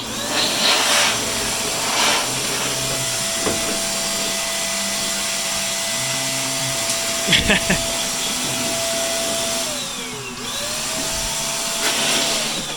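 An XPower Airrow Pro electric duster runs on its high setting, giving a loud, steady whirring blow close by that holds for most of the stretch and dips briefly near the end. A voice speaks over it.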